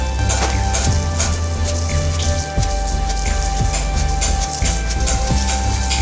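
Ground pearl millet is winnowed in a winnowing basket, producing a dense, continuous patter of grains and husk rustling, with rhythmic soft thumps as the basket is tossed.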